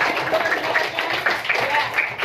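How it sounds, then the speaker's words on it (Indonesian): Classroom applause for a student who just answered, a dense steady patter of many hands clapping for the whole stretch at moderate level, without clear speech over it. "Tepuk tangan dulu buat temennya yang telah ya"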